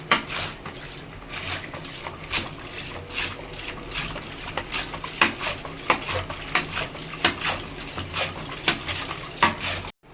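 A large wooden stick churns buttermilk for skimming cream, giving a steady run of rhythmic sloshing, knocking strokes against the pot, close and fairly loud without talk.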